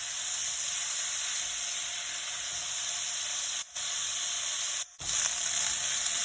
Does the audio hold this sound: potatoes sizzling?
yes